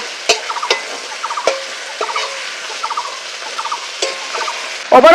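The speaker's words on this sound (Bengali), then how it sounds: "আর এই কাঁকড়া গুলো একটু ভালো করে এপিট ওপিট করে একটু ভেজে নিচ্ছি" Crabs fry in a hot pan and are turned over, with a close sizzling hiss under repeated sharp scraping and tapping of a utensil, ending in a louder clatter.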